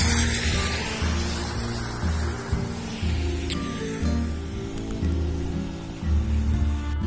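Heavy June rain pours down during a motorbike ride from Kankavli to Mumbai, a steady broad rushing wash over a deep, droning engine rumble that rises and falls throughout.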